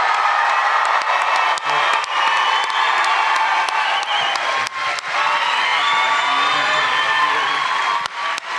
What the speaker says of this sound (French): Est-ce qu'on peut juste leur donner un tonnerre d'applaudissements de participer à ce show-là